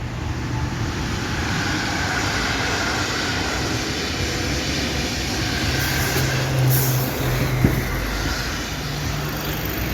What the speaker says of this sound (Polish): Usłyszałem teraz dobrze słychać RP1 Griffina i mamy przelot pociągu Intercity